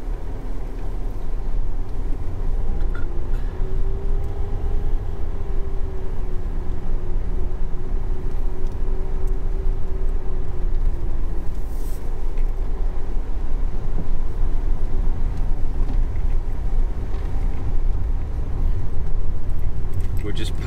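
A car drives along a road with a steady low engine and road rumble filling the interior, continuous and fairly loud.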